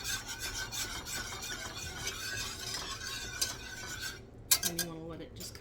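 A utensil scrapes and rubs steadily around a pan of bubbling milk gravy for biscuits and gravy, with a faint simmer beneath and a few sharper clinks near the end.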